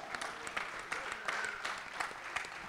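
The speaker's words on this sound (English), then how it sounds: "Please, big applause to Mr." A small audience applauds a departing Spanish para shooter at a rifle prone competition, giving a faint, steady patter of clapping at a distance with a few sharper claps mixed in.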